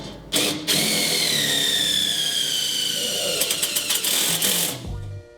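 A power drill drives self-tapping screws into a wooden planter with a trellis, whining steadily as the pitch slowly falls, then breaking into short rapid bursts before stopping.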